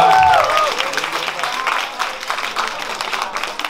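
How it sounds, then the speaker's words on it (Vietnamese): A crowd applauds at a casual weekend party launching new products, clapping and cheering rising after a brief tonal sound at the start, with voices mixed in throughout. "Cho một tràng pháo tay được không ạ?"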